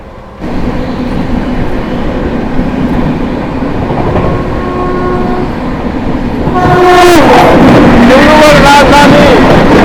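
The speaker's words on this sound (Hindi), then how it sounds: "राजधानी एक्सप्रेस दोस्तों ये जो अभी गुजरी थी ये थी अपनी डिब्रूगढ़ टाउन राजधानी" A Dibrugarh Town Rajdhani Express rushes past a moving train at night, a loud sustained rail roar that swells as a long two-tone horn blares near the end, with some talking mixed in.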